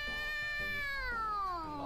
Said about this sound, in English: Are they just gonna sit there and meow at each other?